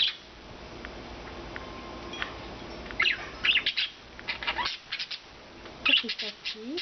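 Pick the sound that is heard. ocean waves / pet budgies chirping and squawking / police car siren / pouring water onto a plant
pet budgies chirping and squawking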